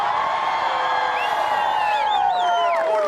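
A dense crowd cheering and hollering, steady and loud throughout, with high gliding whoops and shouts piling up during the second half.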